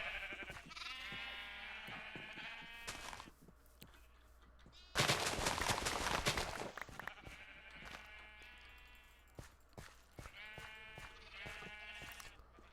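Sheep in the Minecraft video game give several repeated nasal bleats in short bursts. A loud, noisy crunching burst sits in the middle.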